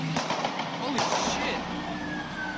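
Sharp gunshot cracks ring out, one early and a louder one near the middle, over a busy street-like background with a faint siren tone.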